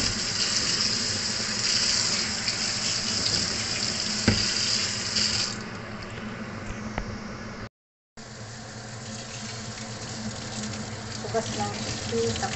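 Tap water runs steadily into a kitchen sink while chickpeas are rinsed for hummus, close and continuous, easing slightly partway through with a brief cut, no talk.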